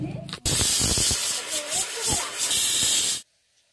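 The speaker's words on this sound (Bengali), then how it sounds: "6 সিটি মারা হয়ে গেছে, এবার নামিয়ে নিচ্ছি" Pressure cooker on a gas stove lets out a loud, steady rush of hissing steam for about three seconds, cut off abruptly, with soft kitchen noise just before it.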